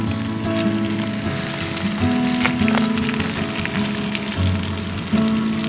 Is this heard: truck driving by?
no